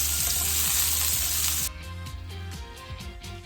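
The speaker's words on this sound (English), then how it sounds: "Chilled meatballs going in oil, brown it, and then bacon." Chilled meatballs frying in hot oil for Swedish meatballs in a home kitchen, a loud steady sizzle that drops sharply partway through to a softer crackle with faint clinks.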